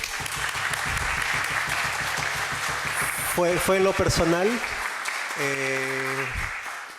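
Applause from a congress audience at a peace-building event, a steady bed of clapping with a voice speaking over it and a tonal, sustained sound breaking in partway through.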